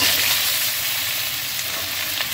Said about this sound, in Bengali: এই যে রাঁধুনি পাঁচফোড়ন আর শুকনো লঙ্কা ফোড়ন দিয়েছি